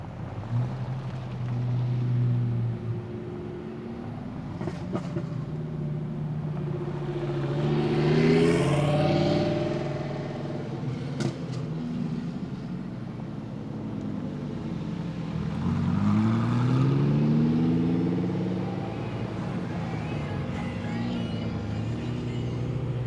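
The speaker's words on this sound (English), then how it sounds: "I know that's not that Tesla making all that noise." Cars arrive and drive past at a car meet, with engine roars rising and falling as two vehicles pass close by in turn, rumbling over a steady outdoor background.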